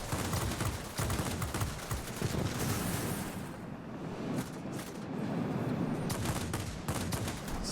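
Me 262 jet in World of Warplanes firing its guns and rockets: rapid bursts of automatic cannon fire over a roaring engine drone, repeated in several loud, close volleys with a short lull between, no voices.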